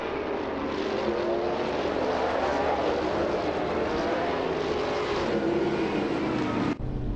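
A pack of race cars roars off the start at the Marina Bay Street circuit in a racing video game, including a 1994 Ford Mustang Cobra in the GTO class, a dense, loud, continuous engine drone that cuts off abruptly near the end.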